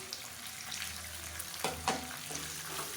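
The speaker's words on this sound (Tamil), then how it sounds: "இது எல்லாத்தையும் நல்லா வதக்கிக்கலாம்" Ginger, garlic, onion, mint and coriander sauté in a pan with a soft, even sizzle, broken by a few quick stirring clicks and scrapes up close.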